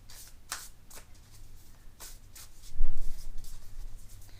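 Oracle cards are shuffled by hand up close, with a few crisp riffling bursts followed by a louder, longer stretch of shuffling over a low background hum.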